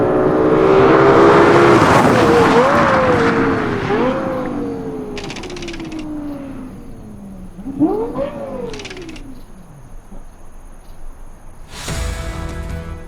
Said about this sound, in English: I hereby decree the Lexus LFA to be the best sounding production car of all time